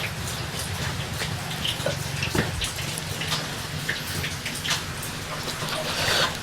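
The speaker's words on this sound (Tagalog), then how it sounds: "Lakas ng ulan." Heavy rain pours steadily, a dense hiss with scattered drops pattering on surfaces nearby.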